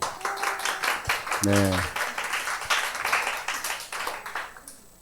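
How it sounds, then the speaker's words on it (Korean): Lecture audience clapping at a free public Bible-study talk, a steady mass of applause filling the room throughout, with a brief spoken word from a man partway through. "좌석에 자리가 차서 박수 소리가 커졌습니다"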